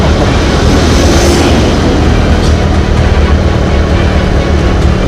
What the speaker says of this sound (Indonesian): Ternyata motor Honda Astrea saya nggak kuat ya.